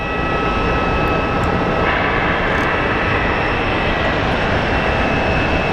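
An airliner being pushed back at Phoenix Sky Harbor airport gives a steady, loud engine roar and whine that fills the whole stretch without a break, close by and constant in level.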